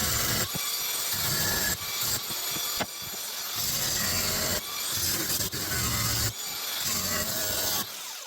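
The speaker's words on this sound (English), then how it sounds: "This is a flush cut blade, so you can stick it right on there, and that will mark the side of the chisel." A flush cut saw blade works along a chisel being roughed out from steel scaffold tube, making steady, loud rasping strokes in a regular back-and-forth rhythm with short pauses between strokes.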